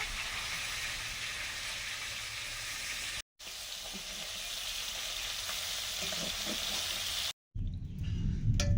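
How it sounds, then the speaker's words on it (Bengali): Okra sizzles steadily in a frying pan, a continuous hissing fry with occasional stirring, interrupted by two brief cuts and a lower, rumbling stretch at the end. "একটু ভাজা করেছি ঢ্যাঁড়স ভাজা"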